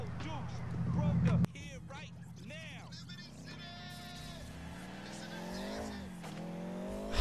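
A car in a video game pulls away with tire squeal and rising engine noise, mixed with bleating-like effects and voices talking over it.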